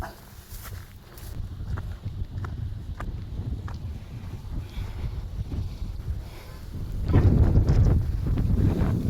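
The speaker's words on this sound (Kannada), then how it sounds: "ಗಾಳಿ ಎವ್ವಿ ಬೀಸ್ತಿದೆ ನೋಡ್ರಿ." Strong wind at a hilltop fort buffets the microphone in a steady, rough low rumble, swelling louder toward the end, with faint scattered knocks.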